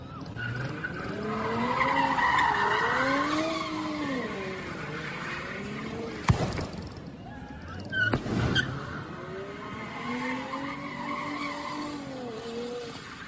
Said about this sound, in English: So, donuts in the middle of the intersection